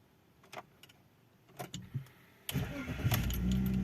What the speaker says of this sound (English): I'm just going to turn the ignition on and crank the engine.